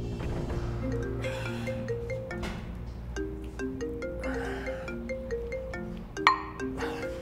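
A mobile phone plays a melodic ringtone, a repeating sequence of tones that carries steadily and clearly across the whole stretch, with a faint room ambience behind it.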